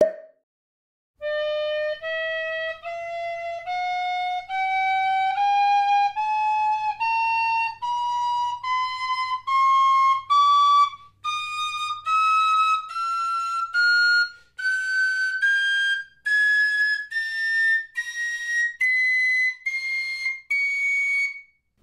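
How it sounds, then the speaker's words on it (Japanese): A Music Morneau chromatic tin whistle plays a clear, bright solo line that climbs steadily in steps over about twenty seconds, each note held with sustained breathy tone and short gaps between phrases. "クロマチックホイッスルは通常のティンホイッスルに比べて指穴の数が多い"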